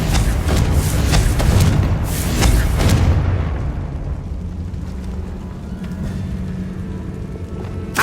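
In the Hogwarts Legacy video game, a Confringo spell explosion inside a tomb gives a loud, booming blast. It rumbles for a few seconds and then fades into a lower, quieter hum.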